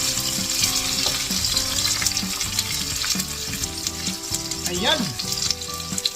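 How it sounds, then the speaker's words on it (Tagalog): Onions and garlic sizzle and fry in a pan for a home-cooked Filipino stir-fried fish fillet, a steady crackling hiss with stirring clatter, under brief speech. "maraming sibuyas yung niluluto natin na ganito"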